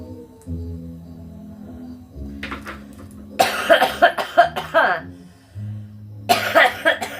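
Several harsh, loud coughs burst out in two clusters, from a person on a casual livestream, separated by brief quieter pauses with low background sound.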